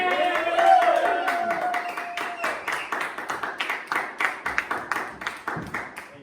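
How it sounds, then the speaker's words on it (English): Audience clapping for street poet Tucker Bonson, a dense burst of hand claps that thins into scattered, uneven claps over several seconds, close and fairly loud, with some voices mixed in. "It's not really necessary to clap, but I get it, you know?"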